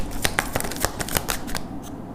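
Tarot cards handled and drawn from a deck, a run of quick, crisp papery flicks and snaps in irregular rhythm, close and fairly loud, with no talking.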